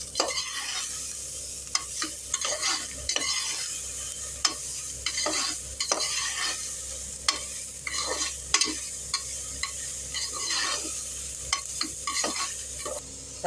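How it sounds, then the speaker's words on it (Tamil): Two medium tomatoes and two green chillies sauté with onion in a pot for bitter gourd rice, a steady close sizzle broken by repeated scraping stirs. "இப்போ 2 மீடியம் சைஸ் தக்காளி, 2 பச்சை மிளகாய் இதை போட்டு நல்லா வதக்கிக்கலாம்."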